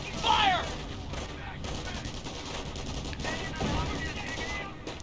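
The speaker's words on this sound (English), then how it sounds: "Rifle squad taking fire." Scattered gunfire and bursts of shooting as a rifle squad comes under fire in Company of Heroes, a steady dense battle din that swells at the start and again midway.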